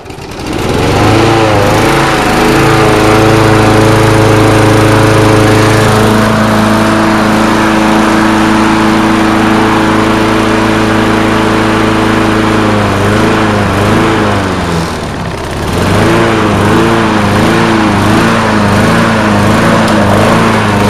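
A small Craftsman riding lawn mower engine runs loud and close, a steady throbbing drone that dips briefly before carrying on.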